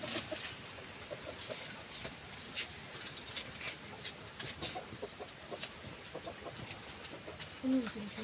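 Chickens cluck faintly in the background amid scattered rustling and soft voices, with short irregular clucks throughout.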